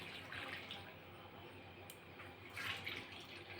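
Hot water is poured from a vessel into a bowl of powdered milk for a chhana cake, a soft, steady splashing hiss that swells slightly near the end, quiet and with no voices.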